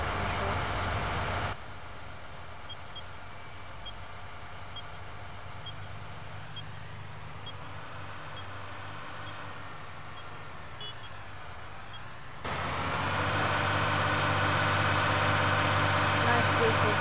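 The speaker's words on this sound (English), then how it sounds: "Nice, beautiful John Deere tractor." A John Deere tractor engine in Farming Simulator 19 hums steadily while driving on a road, a low continuous drone that swells louder near the end, with someone talking over it.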